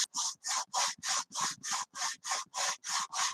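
Sandpaper rubbed back and forth along the vacuform plastic fuselage of a 1/72 Hawker Siddeley Nimrod kit on a flat surface: about eleven steady, even scraping strokes, close and loud, with no talk.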